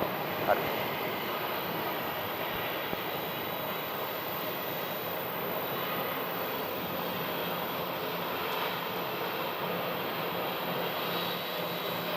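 Jet aircraft arriving on the ground at Sky Harbor airport, heard as a broad, steady engine roar spread evenly through the whole stretch, fairly distant, with faint voices over it.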